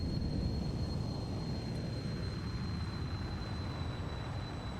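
The Comet, a small, fast stunt plane in the VR game Ultrawings 2, gives a steady, loud engine drone with a constant high whine, alone and unbroken throughout.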